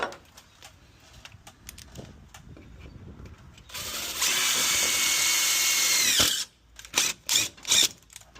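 A power drill bores a pilot hole for mounting an automatic door opener plate: a few seconds of loud, steady whirring, then several short bursts as the trigger is pulsed, with quiet handling noise beforehand.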